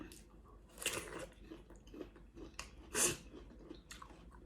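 Someone chews a spicy glass noodle salad with sweet shrimp, producing quiet, close, irregular crunching bites with soft pauses between them.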